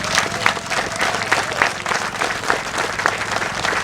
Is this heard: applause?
yes